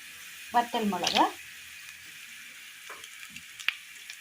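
Shallots sizzle in hot oil as dried red chillies are added for a Kerala curry, a burst of frying and stirring that fades to a quiet background crackle, with a voice speaking.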